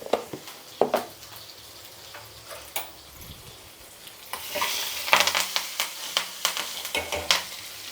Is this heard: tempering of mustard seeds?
yes